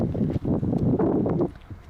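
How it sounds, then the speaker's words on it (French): Strong wind blows outdoors across an open landscape, a loud rushing gust buffeting the microphone that drops away near the end. "Et là, il y a du vent."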